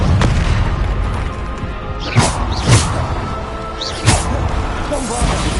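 Bombarda blasting spells explode during a Hogwarts Legacy fight, several sharp booming cracks at irregular intervals over steady rumbling combat noise, with a voice shouting between them.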